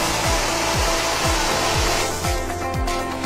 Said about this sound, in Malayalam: സ്പ്രേ ആണ് വരുന്ന ഈ ഫ്ലോ.